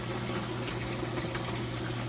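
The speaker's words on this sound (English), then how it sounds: "So you can see how much water is actually going through these socks at a time" Water rushes steadily through filter socks in an aquarium sump, a continuous gushing, bubbling churn that is close and even, with a low hum beneath it.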